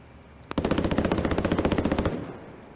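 A single rapid burst from an automatic gun in a video game, about twenty evenly spaced shots fired in quick succession for roughly a second and a half, loud and close, with no talking over it.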